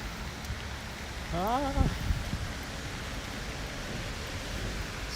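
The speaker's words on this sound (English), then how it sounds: "So much rain." Rain falls steadily on a wet day in Japan, a dense continuous hiss, with a single brief vocal exclamation near the start.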